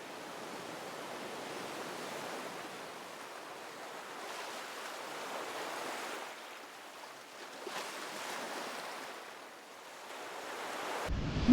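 Ocean surf rolls and washes steadily onto the shore at Vero Beach, a broad hiss swelling and fading with each wave, nearby and continuous.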